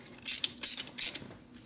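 Ratcheting a bolt with a lock washer on a 1964 Harley-Davidson XL Sportster ironhead chopper: three quick, evenly spaced bursts of metallic clicking, close and clear, with no talk.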